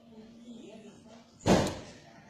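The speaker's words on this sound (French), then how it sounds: "Faut fermer la porte." A door being shut indoors during a video call, one sharp, loud slam following a stretch of quiet room noise.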